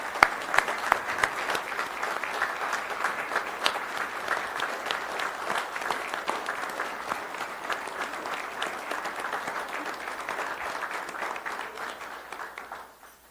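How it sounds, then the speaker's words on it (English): A county commission meeting room fills with steady applause for championship coaches, many hands clapping at a moderate distance with a few sharp individual claps, fading out at the end. "can I get a round of applause, please, for the national championship coaches?"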